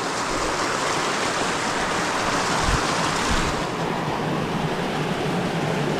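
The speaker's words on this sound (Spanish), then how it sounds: "me está salpicando y cae caliente" Hot river water in the Bosque de la Primavera, Mexico, splashes underfoot as someone wades and steps through it. The rushing, splashing wash is close, steady and continuous, and no one speaks.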